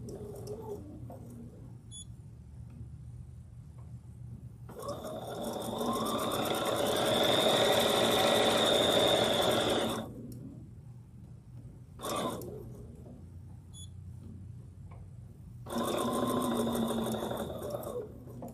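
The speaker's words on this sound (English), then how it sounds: "It's nice to have a machine where the needle stays down when you're doing this." A home sewing machine runs in bursts while someone sews, with the needle staying down between passes: a steady motor whir for several seconds, then quiet, a short burst, and another run near the end, close and fairly loud.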